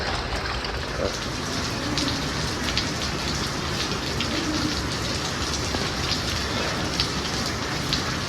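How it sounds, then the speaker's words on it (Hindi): Heavy rain pours down over a village rooftop, a thick, unbroken roaring hiss with splashing water, loud and constant with no talking. "भाई 15-20 मिनट की बारिश पड़ी है, लेकिन बहुत तेज़ पड़ी है।"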